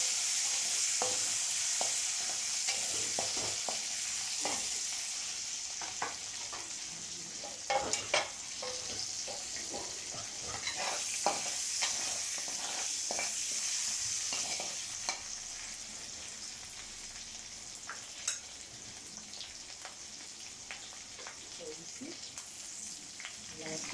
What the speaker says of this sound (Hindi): मैं इसमें प्याज जो मैं चॉप की थी उसे डाल देती हूँ